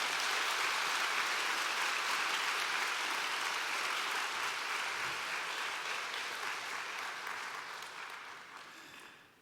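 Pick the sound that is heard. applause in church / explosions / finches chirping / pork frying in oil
applause in church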